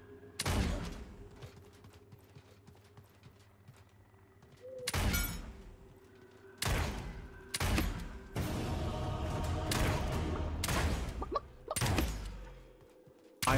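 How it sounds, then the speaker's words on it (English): Gunfire echoing across the battlefield in the battle royale game Realm Royale, several loud bursts and volleys separated by quieter gaps, with steady background noise between them. "I hear them shooting."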